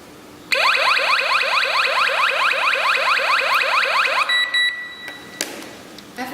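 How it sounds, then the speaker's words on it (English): A home intruder alarm system siren lets out a loud, rapid series of rising electronic whoops for about four seconds, then switches to steady high beeps and clicks before falling quiet. "When the intruder is trying to get into your house, the system will alarm you immediately."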